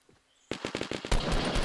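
Fortnite gunfire erupts after a brief near-silence: a rhythmic run of rapid, evenly spaced shots gives way to a denser, louder stream of fire, with no voices.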